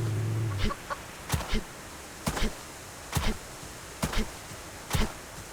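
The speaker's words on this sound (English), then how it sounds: "I thought I saw a chicken over here somewhere," A chicken in a hardcore survival video game clucks in short, repeated bursts, about six evenly spaced calls, fairly close and clear over a quiet background.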